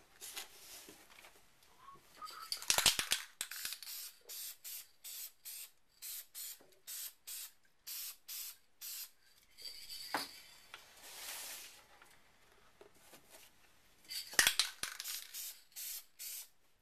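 Short bursts of aerosol spray paint coat a plastic Xbox 360 controller shell, a long hiss followed by a steady run of brief, evenly spaced puffs and another longer blast near the end, close and fairly loud.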